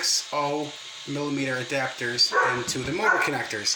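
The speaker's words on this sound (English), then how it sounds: "I apologize about my dog." A pet dog yips, whimpers and gives short bow-wow barks in a quick run of whiny calls, close by and loud, overlapping someone talking in a room where a radio-controlled car is being worked on.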